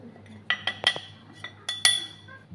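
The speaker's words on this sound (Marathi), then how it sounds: "तर मी आता हे चांगलं मिक्स करून घेणार आहे" A spoon stirs ragi (finger millet) flour batter in a bowl, producing a handful of irregular, sharp metallic clinks and scrapes close by, with quiet gaps between them.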